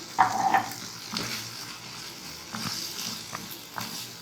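Bell pepper and carrot fry in a pan with an already-fried paste and sauce, giving a soft sizzle with a few stirring scrapes, quiet and close, with no talk.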